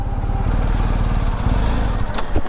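A new 2019 BMW R1250GS motorcycle engine rumbles close by with a steady, throbbing low drone that holds throughout, with slight swells and a few light clicks near the end.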